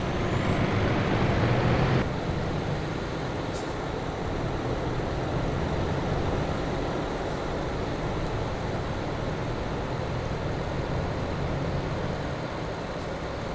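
A heavy truck hauling a weighty load labors along in Euro Truck Simulator 2, with a steady low engine drone throughout, opening with a rising air-brake-style hiss that cuts off after two seconds.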